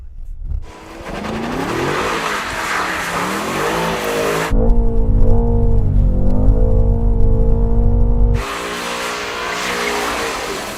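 A Mercedes-AMG in rear-wheel-drive drift mode powers through a slide, its engine droning loud and near with rising and falling revs and a harsher tire-scrubbing roar in the middle stretch, while a voice talks over it.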